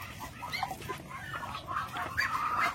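Muscovy ducks on a farm make soft, irregular clucking and murmuring calls over a low steady background, with several birds overlapping nearby.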